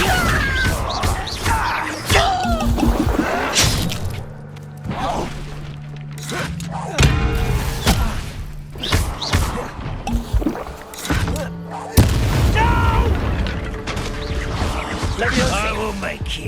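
Incendio fire spell blast cast in the Hogwarts Legacy video game, a sharp whooshing crash over dense battle noise, followed by thuds and smashes while voices talk over the fight.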